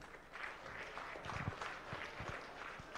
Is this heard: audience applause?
yes